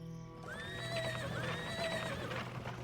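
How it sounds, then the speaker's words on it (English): A horse neighs in the video game Pharaoh, a clear rising and falling whinny repeated in a couple of drawn-out calls, loud and close with a low steady hum beneath. "I don't know why it sounds like a horse neighing."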